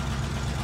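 A 1992 Ford F-250 four-wheel-drive pickup with a 351 engine and five-speed manual idles steadily, a low continuous rumble with no voices, close and even throughout the brief moment.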